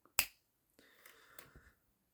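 A single sharp finger snap, crisp and close in a quiet room, followed by faint soft rustling.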